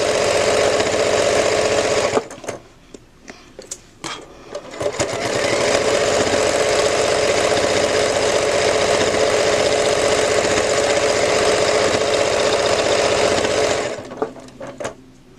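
A sewing machine stitches through a thick quilted patchwork bow in long, steady runs, pausing briefly between bursts, close and loud with no talk over it.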